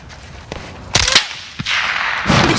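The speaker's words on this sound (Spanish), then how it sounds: "¡Los disparos vienen de la carretera!" Several sharp gunshots crack out in short bursts in Call of Duty: Modern Warfare (2022), loud and punchy against a steady background hiss, with a final burst of rapid fire near the end.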